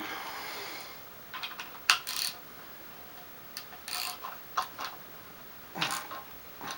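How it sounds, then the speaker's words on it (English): A hand ratchet clicks in short irregular bursts while tightening the stock screws on an Ithaca 51 shotgun, quiet and close with pauses between strokes. "I'll get my ratchet."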